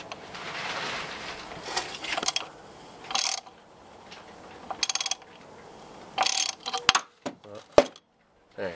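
Close, loud bursts of ratchet clicking tighten a bolt that winds a spacer out of the alternator mount on a 1991 Jetta turbodiesel, separated by pauses, with metallic taps and clinks toward the end.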